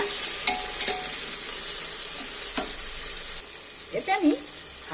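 Ginger and tomatoes fry in a pan with a steady, close sizzle, broken by a few scraping stirs and a short voice-like sound near the end.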